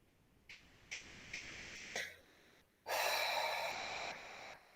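Deep breathing during a guided meditation: several short, close sniffing inhales followed by a long, slow exhale through the nose and mouth, with no talk.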